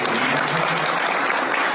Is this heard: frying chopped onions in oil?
no